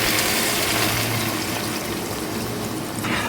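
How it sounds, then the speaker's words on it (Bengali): Water is poured into mutton curry simmering in a pot, a steady broadband rush that holds for about three seconds and then tails off slightly. "এবার আমরা এতে দিয়ে দেবো জল।"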